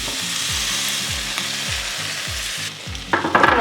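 Beaten eggs frying as an omelette in a pan, a constant hiss of sizzling oil with a repeated low thumping underneath, then a brighter burst of crackle as more egg hits the hot surface.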